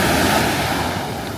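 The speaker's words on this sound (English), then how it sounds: "The sea is super cold and obviously quite rough because it's the Atlantic" Rough, cold Atlantic surf at a beach in Lagos makes a loud, steady roar of breaking waves, with wind buffeting the microphone and no voices.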